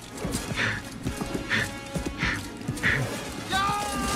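Armored horses gallop through a night battle in the 1995 film First Knight, with repeated whinnies and neighs, hoof clatter and mixed battle noise under a dense, busy background, plus bursts of shouting voices.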